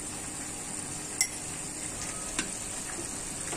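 Spiced chicken being stirred and sautéed in a pan with turmeric and chili powder, a soft steady sizzle with two sharp metal clinks of the spoon against the pan, quiet and close.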